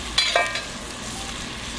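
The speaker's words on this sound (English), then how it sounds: "I'm going to put quite a bit of garlic in there." Garlic drops into a hot pan with clarified butter and sizzles steadily up close. A few clicks and scrapes from stirring rise above the frying hiss.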